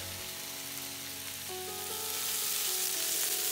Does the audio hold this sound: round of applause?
no